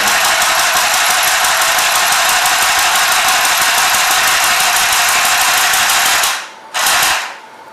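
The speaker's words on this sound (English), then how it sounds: "Your thumb should always be on the knob here when you are sewing, and then it sews from left to the right." Mini portable sewing machine running steadily while stitching, a continuous loud mechanical whir with rapid needle rhythm for about six seconds, then stopping, a brief restart and halt.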